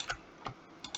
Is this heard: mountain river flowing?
no